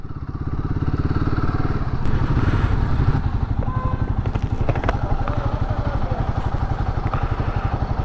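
A motorcycle engine chugs with a steady, rapid pulse as it rides along, loud and close, with some clatter and wind noise.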